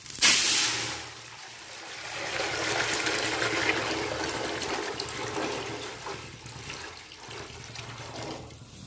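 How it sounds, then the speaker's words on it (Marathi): Water pouring steadily into a pot holding cumin seeds, a brief splashy burst at the start, then a sustained rushing stream. "आणि आता लगेच पाणी घालायचं"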